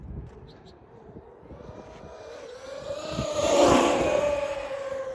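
A Traxxas Sledge RC truggy's electric motor revs under throttle with no traction assistance, a whining drone that climbs and swells to a peak before easing slightly, fairly close, steady and without breaks.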